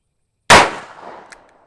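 A single loud shot from a Dan Wesson .357 Magnum revolver fired in single action, a sharp close crack with a ringing decay that fades over about a second.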